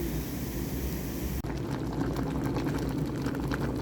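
A pot of okra stew comes to a boil, a steady rushing bubbling hiss that grows busier partway through, heard close and alone without talk.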